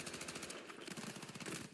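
Automatic gunfire in Battlefield 6, a rapid, steady stream of shots with a short gap partway through, fairly faint overall and heard without talk.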